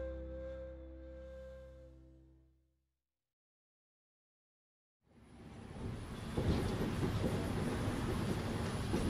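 An Efteling theme park monorail ride rumbles steadily along its track, loud and close, with a broad continuous roar that swells after a brief silent gap.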